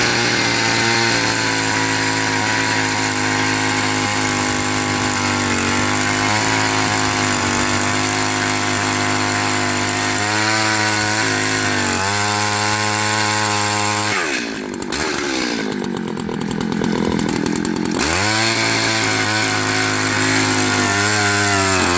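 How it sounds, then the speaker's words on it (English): A powered drill bores holes into garden soil through cut weed guard for planting tomatoes, running loud and continuous with steady engine-like harmonics that shift pitch as it bogs down and revs, plus a rougher burst midway. "now we're about to drill holes into the ground."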